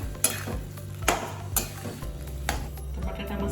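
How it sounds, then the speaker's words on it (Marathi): Grated potato masala is stirred in a pan on the stove, with several sharp spoon scrapes and knocks against the metal over a low, steady sizzle. "आणि चांगलं मिक्स करून घ्यायचं."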